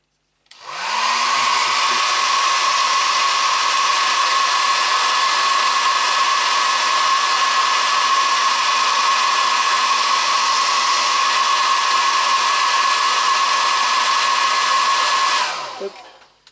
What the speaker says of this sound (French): je vais mettre un léger coup de sèche-cheveux